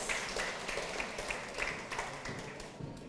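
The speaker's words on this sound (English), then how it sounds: "Round of applause, please." An audience at a Tacloban social-good forum claps in welcome for a climate commissioner, a steady wash of moderate applause that holds for a few seconds, then tapers off.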